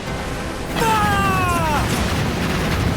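Mortar fire in the pirate naval-battle game Assassin's Creed Black Flag, heard as a dull boom over a steady roar of wind and sea, with a brief descending whistle-like tone in the middle.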